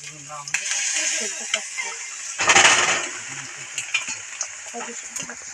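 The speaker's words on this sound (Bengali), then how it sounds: "ডিমটা ভেজে নেওয়ার পর এখন আমরা এর ভিতরে দিয়ে দেবো পাস্তা।" Boiled pasta hitting a fried egg in a hot pan gives a burst of loud, close sizzling midway, with frying crackle and utensil stirring before and after, and a voice talking over the start.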